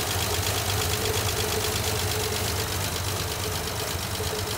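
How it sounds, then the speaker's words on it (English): Carbureted engine idling right after a -15F cold start, a steady loud rumbling idle with a slightly knocking, uneven beat that holds constant throughout, with no talking. "Minus 15 degree cold start."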